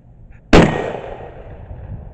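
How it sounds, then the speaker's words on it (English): Single loud, close shotgun blast from a Dickinson 12 gauge with cylinder bore choke and muzzle brake firing a target load, a sharp crack followed by a decaying outdoor echo. "we're going to shoot target loads"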